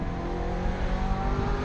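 A Ferrari F355 GTS with a 3.5-liter V8 and five valves per cylinder revs in a brief, steady, loud burst, heard close from the cabin with no talking.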